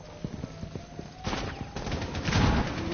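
Automatic machine gun fire in Rainbow Six Siege, a burst of rapid shots rattling in the second half after quieter scattered thumps and a faint tone, fairly close and loud.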